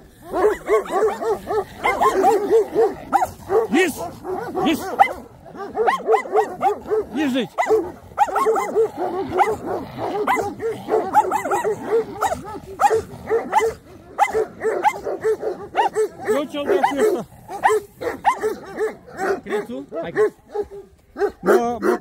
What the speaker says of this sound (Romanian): Ați văzut, oameni buni, ce câini,